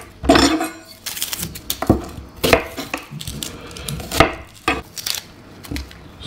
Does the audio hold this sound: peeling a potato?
yes